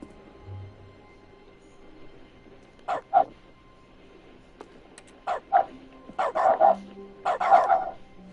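A dog barks in The Stanley Parable video game, a series of sharp, clear woofs in short bursts, first a pair, then a quicker run of barks and yips near the end, close and fairly loud over a quiet background.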